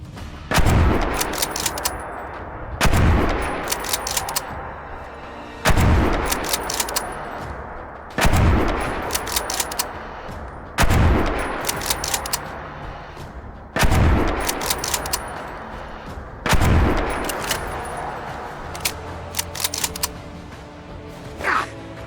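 A Barrett M200 Intervention sniper rifle fires in the video game Fallout 4, each heavy, booming shot followed by bolt-action clicks, with about eight shots spaced evenly roughly every three seconds.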